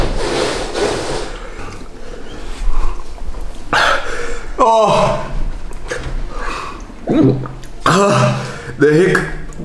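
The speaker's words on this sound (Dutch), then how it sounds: "De hik." Hiccups from someone who has just eaten a Carolina Reaper pepper, as a few sharp, jerky catches break up close, loud, excited talk and exclamations.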